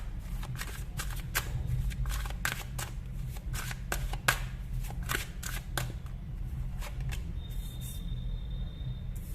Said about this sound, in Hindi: अगर आपको कार्ड शफलिंग पसंद नहीं है आप इसको बिल्कुल स्किप कर सकते हो